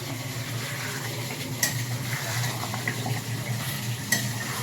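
Goat lung curry sautéing in a pan with garlic-ginger paste: a low steady sizzle with occasional spoon scrapes and clinks, close up, no speech.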